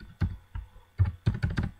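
Keys on a computer keyboard clack in short, close bursts while data is entered into an MS Excel spreadsheet, with several quick strokes clustered near the end and no voice heard.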